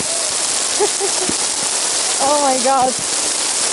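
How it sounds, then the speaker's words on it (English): Hard rain pours loudly and steadily at the Kelimutu crater lakes on Flores, near a small chapel and cemetery; brief exclamations and a wavering voice cut in over the downpour. "Now hard rain started, so we have to hurry up."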